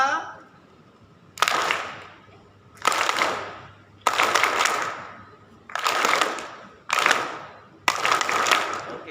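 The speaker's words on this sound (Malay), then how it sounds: "Tepuk tangan." At a conference paper presentation, an audience claps hands in unison on cue: six separate bursts of collective clapping, each sharp at the start and fading over about a second, with quiet gaps between them.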